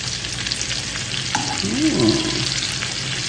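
Salmon frying in a pan, a loud steady close sizzle with a brief murmur of talk partway through.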